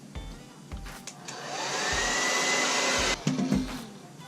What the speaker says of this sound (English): so the blow dryer is actually working really well